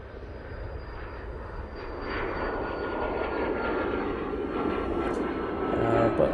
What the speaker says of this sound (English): Oh, easyJet's gone.